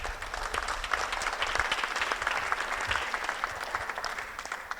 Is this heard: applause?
yes